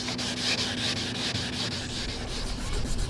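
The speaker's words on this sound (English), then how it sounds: "I'm finished up sanding the jams now." Rhythmic hand sanding of a car's door jambs, a steady back-and-forth scratchy rubbing of abrasive paper, close and continuous with a faint hum behind it.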